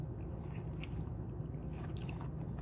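Someone chews a mouthful of oatmeal mixed with protein powder and water, soft wet squishing bites close to the mic, quiet and low under a steady background hum.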